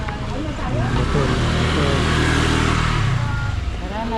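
A motor vehicle engine, probably a passing car or motorcycle, runs steadily and fairly loud with a rising and falling drone, under people talking nearby during a farewell after a christening.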